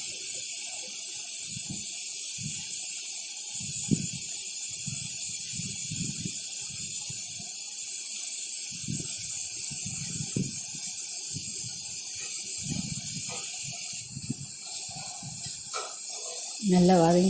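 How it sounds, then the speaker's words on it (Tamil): Tomatoes with salt sauté in a pan for vegetable pulao, a steady bright hiss of frying running throughout, with soft low bumps from stirring underneath and a voice speaking briefly at the end. "நல்லா வதங்கிடுச்சு தக்காளி."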